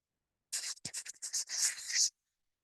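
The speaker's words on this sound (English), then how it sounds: "Let me erase the board." A classroom board is wiped with an eraser in a series of quick, close rubbing strokes, several short bursts packed into about one and a half seconds, then silence.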